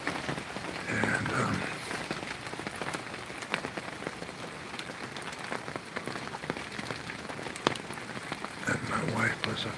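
Steady rainstorm in North Carolina, a dense continuous hiss of rain falling on surfaces with scattered louder drops and patter, swelling slightly near the end.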